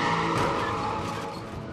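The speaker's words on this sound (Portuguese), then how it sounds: "O caminhão deu uma guinada." A truck's tires skid and squeal as it swerves sharply, a loud, close screech that fades slightly toward the end, as a dramatized sound effect.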